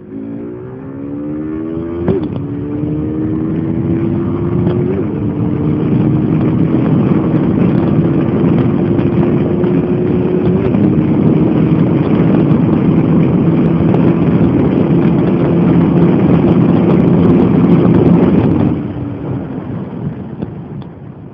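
A KTM RC 390 motorcycle fitted with a piggyback ECU, recorded while riding: the engine revs rise steadily through the gears with short shift breaks, loud and continuous under wind noise, then drops off near the end.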